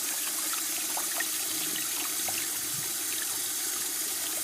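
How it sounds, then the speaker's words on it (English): Cold water running steadily from a kitchen tap over boiled eggs in a sink, a continuous hissing splash at an even level with no talking. "turn on the cold water to cool them off"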